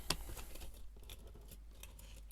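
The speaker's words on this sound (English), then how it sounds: "let's find a pair of scissors to get this off with" Scissors snipping through plastic packaging on a set of shower curtain clips, a sharp close cut near the start followed by quieter rustling and small clicks, with no talking.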